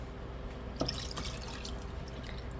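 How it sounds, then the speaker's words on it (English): Lemon juice, lemon zest and butter pour into a pan for a lemon meringue pie filling, a soft splash and a few faint drips over quiet room noise. "I've got my lemon juice, lemon zest, and butter"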